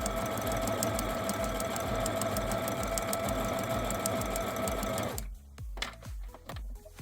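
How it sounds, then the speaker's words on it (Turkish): A sewing machine stitches fabric in a straight seam, a steady rapid mechanical whir for about five seconds, then it stops and a few scattered clicks and taps follow. "Ayağımızı kaldırıp kumaşımızı döndürüyoruz ve düz bir şekilde dikmeye devam ediyoruz."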